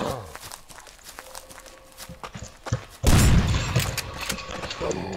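Shotgun fire in the survival video game Rust, scattered footsteps and clicks give way to a sudden loud blast and sustained roaring gunfire, with some talk mixed in.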